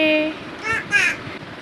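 A voice imitates a crow, giving two short caw-like calls, close and fairly loud, after a brief adult word.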